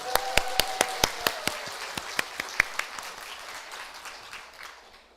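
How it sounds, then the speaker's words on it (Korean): A church congregation claps for a choir at a Sunday afternoon worship service, scattered distinct hand claps ringing out one after another in a reverberant sanctuary, fading and thinning toward the end. "이 아름다운 에스더 찬양대를 주신 하나님께 감사의 박수, 영광의 박수 올리겠습니다"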